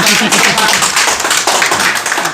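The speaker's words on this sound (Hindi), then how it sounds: "जोरदार तालियां हमारे अध्यक्ष जी का" Audience at a gathering of journalists from Nepal and India clapping to welcome the chairman, loud, close, rapid rhythmic claps packed tightly together with no pause.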